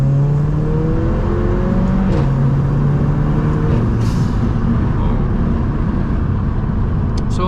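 A Mercedes AMG A45 RENNtech with turbo boost accelerating hard, engine note rising through a loud, continuous drone with a gear change partway, heard from inside the car without talk.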